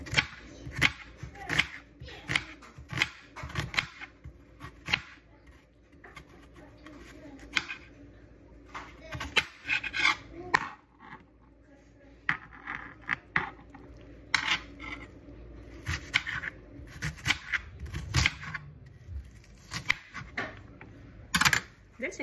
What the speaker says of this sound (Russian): Дальше я нарезаю лук.